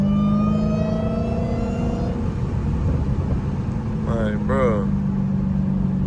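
A Dodge Hellcat roars loudly in third gear, its engine note climbing, then dropping after a shift, with someone talking briefly over the close, steady rumble.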